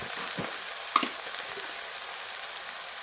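Tomatoes sauté in a pan for egg bhurji, a faint, steady sizzle with a couple of soft stirring clicks, heard alone.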